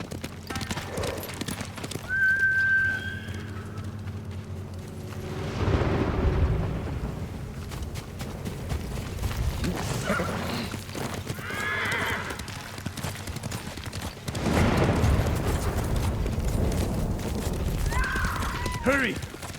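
Hooves of a horse in the game Ghost of Tsushima pound in a steady clip-clop rhythm with occasional whinnies, mixed with game sound effects and bursts of voices talking over the ride.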